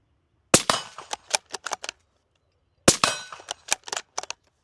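A suppressed 5.56 bolt-action rifle with a SilencerCo Scythe can fires two shots at a steel target outdoors. Each sharp muffled crack is followed by a quick clang and a few fading ricochet-like pings, the two shots a couple of seconds apart.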